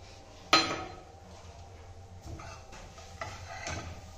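Cashews and raisins are stirred into frying carrot in a pan for gajar halwa, with one bright metallic clink and then soft, intermittent spoon scrapes and taps, fairly quiet and with no talking.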